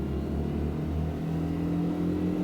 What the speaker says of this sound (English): The little flat 2 air-cooled revs out nicely.